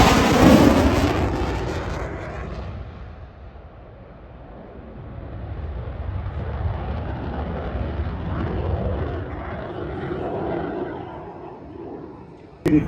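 An F-35 military jet roars through a Friday-night display flight at the Avalon airshow in Australia, a loud broadband rumble that starts strong, dips, then swells again as the aircraft passes at a distance.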